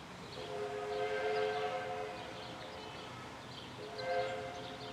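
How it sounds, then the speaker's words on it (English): A safari train's whistle at the Milwaukee Zoo, faint and distant, sounding as two short tonal blasts separated by a pause over quiet outdoor background. "That's a train whistle."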